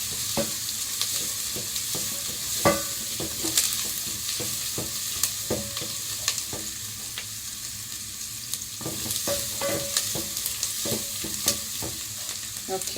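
Cabbage frying in hot cooking oil in a pan, a steady sizzle running throughout with repeated clicks and scrapes of stirring; no one speaks.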